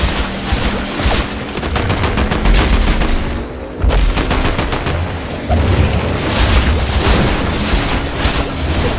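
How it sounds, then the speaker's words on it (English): Fortnite gunfire rattles in rapid automatic bursts during a squad match, loud and dense with short pauses between volleys, with no talk. "We're getting shot at."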